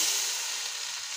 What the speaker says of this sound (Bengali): পেঁয়াজ অলমোস্ট ভাজা হয়ে গিয়েছে। এ পর্যায়ে আমি দিয়ে দিচ্ছি মশলাগুলো।